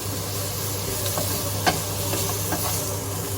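Quorn chicken fajita pieces sizzle steadily in a pan while a utensil stirs them, with occasional sharp scrapes and knocks over a low constant hum and no voices.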